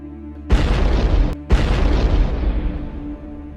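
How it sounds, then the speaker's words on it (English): Two heavy, booming FPV drone strike explosions about a second apart, each a sudden loud blast followed by a long rumbling roar that slowly fades. "An explosion shattered the silence"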